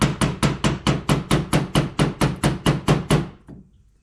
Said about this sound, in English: just gentle taps, and it's just sort of walking the dent down a little bit